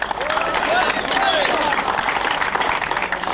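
Applause at a football award ceremony honours Dynamo Kyiv at the final day of a tournament held in honour of A.A. Havashi. Loud, continuous clapping carries a few whistles and some talk under it.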